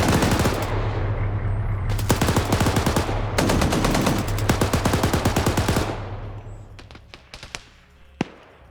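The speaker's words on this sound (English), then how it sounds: "they're shooting at the buddy team over here" Rapid automatic gunfire rattles in loud sustained bursts in a military combat game set in Afghanistan, then thins to scattered single shots and fades toward the end.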